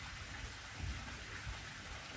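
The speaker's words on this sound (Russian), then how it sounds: "Дождь идет в Австрии." Steady rain falls in Austria, a soft continuous patter with low rumbling underneath, heard alone with no voices over it.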